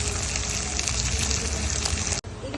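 Prawns frying in oil on a medium flame, a steady dense sizzle that stays loud and close throughout, broken only by a very brief dropout near the end.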